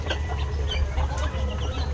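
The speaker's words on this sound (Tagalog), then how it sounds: "kung nakikita nyo po itong aking pabuhan, ayan, ilang pabo na lamang po" Bourbon Red turkeys in a pen clucking and chirping softly, several birds calling in quick, overlapping bursts.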